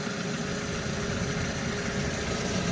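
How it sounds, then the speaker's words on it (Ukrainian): A 2001 Audi's engine idles under the raised bonnet: a steady, even, moderately quiet hum and rumble that continues unbroken, with no voices. "Так працює двигун."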